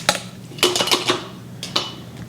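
Chicken soup solids being ladled into glass canning jars: a few sharp clinks and clattering knocks of ladle on glass, spaced irregularly and close up, with no talking.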